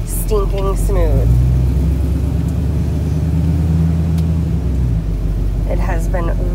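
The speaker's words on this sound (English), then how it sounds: "you can really hear the sound of the engine, which sounds amazing. Definitely has got some rumble under the hood" A 1936 Ford Deluxe engine gives a steady low rumble while driving, a continuous deep drone heard under someone talking throughout.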